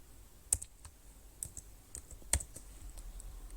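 Sparse, quiet keystrokes on a computer keyboard while a captcha is typed in on a post office form, with a few clearer clicks standing out over a faint room hiss and no talking.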